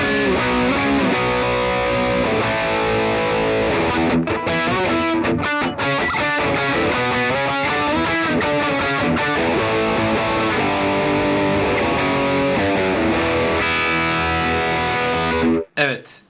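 Distorted electric guitar played through a Mooer Cab X2 pedal with Vox and Fender Deluxe Reverb cabinet simulations, loud sustained chords and riffs with effects, continuous for about fifteen seconds before stopping abruptly.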